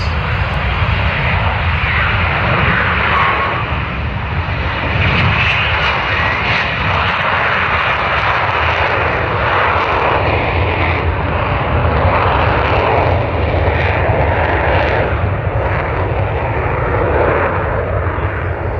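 A Marine Corps F-35B Lightning II, the short-takeoff, vertical-landing variant with a lift fan, flies an airshow demonstration at MCAS Beaufort, producing a loud, continuous, broad jet roar that holds steady throughout with no talk.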